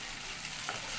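Wheat flour noodles are stirred in a frying pan, giving a faint, steady hiss of sizzling oil with a soft scrape of stirring, quiet and without talk.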